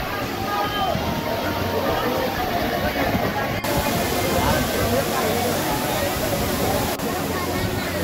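The Zenith waterfall at Khopoli runs in full flow, giving a loud, steady, unbroken roar of rushing water heard from close by.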